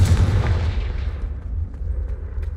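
A Confringo blasting spell detonates in Hogwarts Legacy: a heavy, low boom right at the start that rumbles and slowly decays, followed by faint scattered crackles.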